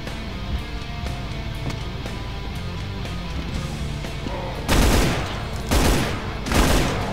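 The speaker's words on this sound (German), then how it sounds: "Ich schieße den Typen dreimal mit ins Gesicht" Gunfire in Brutal Doom as a man is shot: a steady din of game noise gives way to three loud, broadband shot bursts about a second apart near the end, each sharp and close, with no talk.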